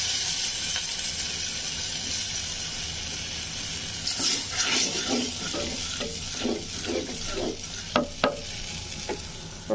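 Tomatoes frying in a hot pan while being stirred: a steady bright sizzle with scraping, clattering stirring strokes growing busier toward the end, close by and without talk.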